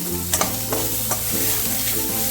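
Onion, ginger and garlic sautéed in a pan over high gas for Bengali doi chingri, a loud close sizzle with several quick spatula scrapes and a low steady hum, no voices.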